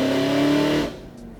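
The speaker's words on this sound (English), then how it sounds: "we're going to do a little partial pull" Supercharged Pontiac G8 running on E85 pulls hard through a partial throttle run, a loud steady engine roar with strong harmonics that drops off sharply near the end as the throttle closes.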